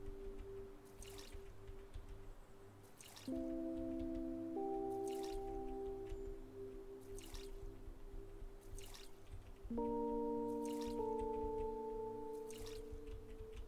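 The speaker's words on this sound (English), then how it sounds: "Yes, I want to water the plants." Plants being watered in the video game OMORI: soft, sustained tonal chimes layered over gentle ambient music, with faint dripping water and quiet repeated taps, low and calm throughout.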